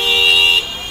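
A single loud, close vehicle horn blares for about half a second in stopped traffic at a signal on a rainy-day drive, then cuts off, leaving faint road ambience.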